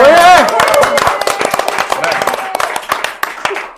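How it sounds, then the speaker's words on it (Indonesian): An audience claps at a Catholic children's and youth community talk show, a dense burst of hand claps with a voice over the start, fading over about four seconds. "Tepuk tangan dong semuanya."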